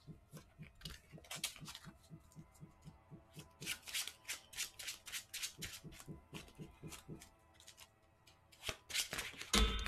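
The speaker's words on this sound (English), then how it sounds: "and then we'll shuffle it" Cards being shuffled repeatedly, a quick riffling rhythm of soft flutters and taps, fairly close, with a low hum underneath and no talking.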